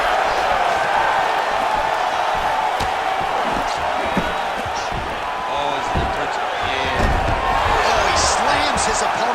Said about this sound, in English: Oh, another ground strike gets through.